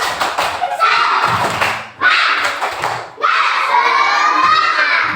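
Primary-school children in a classroom cheer and shout in loud bursts with rhythmic clapping, three swells of noisy group excitement close by.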